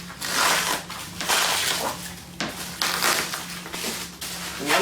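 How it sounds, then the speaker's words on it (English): Plastic wrapping being pulled and crumpled off a shirt board for a four-color screen printing press, loud close crinkling and crackling in irregular bursts throughout. "we can unwrap our shirt board, put that on"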